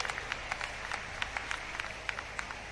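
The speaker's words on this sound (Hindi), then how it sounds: "मैं दादरी की क्रांतिकारी जनता से अनुरोध करता हूं, एक बार जोरदार तालियों से सरदार जी का सम्मान" A crowd at a political rally in Charkhi Dadri applauds to welcome Punjab Chief Minister Bhagwant Mann. The clapping is thin and scattered, with distinct individual claps in a loose rhythm, faint and somewhat distant.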